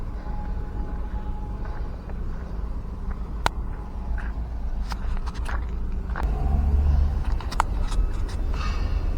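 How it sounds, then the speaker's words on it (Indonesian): Heavy trucks hauling concrete material for toll road construction rumble past steadily, a continuous low engine drone with occasional clanks and knocks, growing a little louder toward the end; no talking. "kita lihat banyak sekali truk yang membawa material beton ya untuk"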